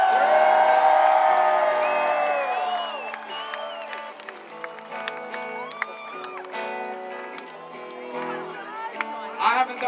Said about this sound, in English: a loud crowd, a big rock concert